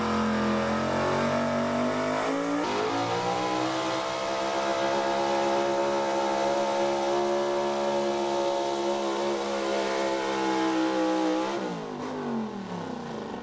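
A big-block, high-output 4x4 gas pickup roars at a truck pull, the engine held at a loud, steady high rev for several seconds after a sharp jump in pitch, then dropping off near the end.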